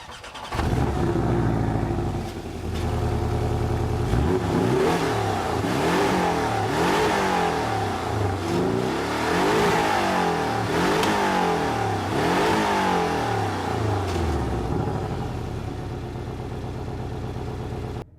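A Porsche 718 Cayman S starts and pulls away, its engine revving up through repeated gear changes in rising and falling sweeps, loud and steady for the whole stretch, with no talking.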